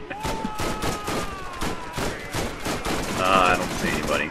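Rapid gunfire in the video game Borderlands, a steady stream of close, loud shots with a whistling tone running under the first half and sharper effects near the end.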